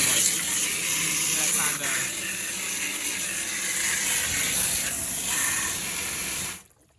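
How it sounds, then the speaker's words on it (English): A garden hose sprays water steadily to rinse Drylock residue off a handmade reptile enclosure background, a continuous close hiss that runs for several seconds before cutting off abruptly at the end. "Apparently you're supposed to keep spraying it until that all goes away."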